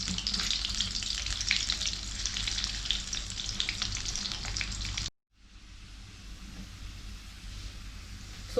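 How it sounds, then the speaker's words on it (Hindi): Potatoes fry in hot oil over a high flame with a loud, steady sizzle and crackle, which drops out briefly for a moment before returning somewhat quieter and continuing without any voices. "हमें आलू को सॉफ्ट नहीं करना है, बस ऊपर का जो आउटर लेयर है वो अच्छे से फ्राई हो जाएगा"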